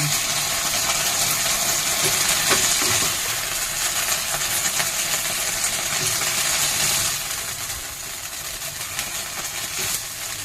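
Okra sizzling in hot oil for a Thai stir-fried tofu dish, a steady loud frying hiss that runs throughout and eases slightly near the end, with no talking.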